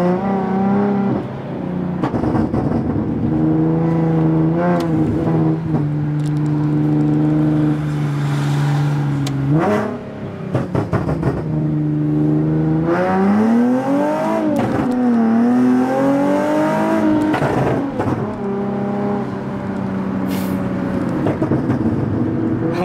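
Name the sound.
Nissan 370Z exhaust pops and bangs while revving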